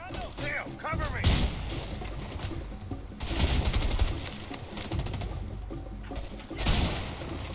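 Video game gunfire in A Way Out crackles in repeated bursts and bangs, loud and close, with rattling volleys and heavy thumps, a voice briefly heard near the start.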